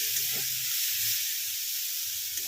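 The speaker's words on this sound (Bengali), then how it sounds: "সামনে এরকম কুমড়ো আর উচ্ছে ভেজে নিলেন" Pumpkin and bitter gourd slices fry in oil with a continuous, even hiss and sizzle, close and moderately loud, with faint low bubbling beneath and no voices.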